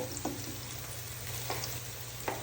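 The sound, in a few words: garlic sautéing in a pan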